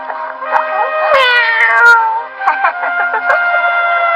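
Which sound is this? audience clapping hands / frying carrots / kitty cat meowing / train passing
kitty cat meowing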